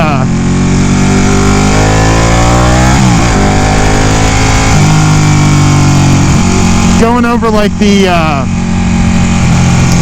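Ducati 899 Panigale sport motorcycle engine while riding, a loud continuous drone with rising and falling revs through gear changes, a sharp rev surge near the end, and someone talking over it.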